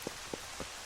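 Rain from the game Zelda: Twilight Princess, near Hyrule Castle, gives a steady soft hiss, with three evenly spaced faint drop-like taps over less than a second.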